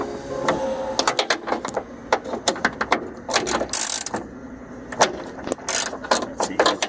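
A ratchet fitted with an E12 socket loosens the window bolts on a 2007 BMW 750Li front door. It gives off quick bursts of sharp clicking in an irregular rhythm, close up and moderately loud, with no talk.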